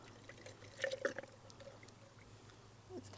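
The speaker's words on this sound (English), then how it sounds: "I'm just gonna pour some in here." Thick concentrated fish fertilizer is poured from a container, a faint, gloopy liquid glug with a couple of brief splashy bursts, quiet and close in an otherwise calm setting.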